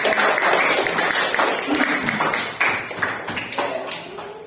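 A classroom audience claps in uneven, tapping bursts, fairly close and loud, with voices mixed in among the applause.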